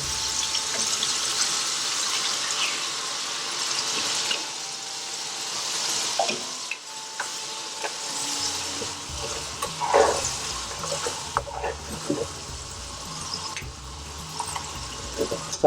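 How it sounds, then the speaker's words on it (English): Base gravy is ladled into a pan of cooking chana saag curry, giving soft stirring, splashing and gentle sizzling, fairly quiet and uneven, with a few louder scrapes and liquid sounds partway through and no talking. "And now I want you to add a second ladle of base gravy."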